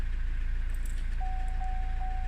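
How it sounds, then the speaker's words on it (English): A Vauxhall Zafira Tourer engine idles steadily at close range, a low even rumble with a faint tonal whine entering partway through, no talking. "So we'll just let that gently idle for a second"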